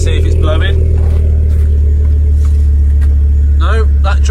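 Ford Focus ST225 engine fitted with a Mongoose exhaust idles steadily with a deep, loud, constant rumble, while people talk briefly at the start and end.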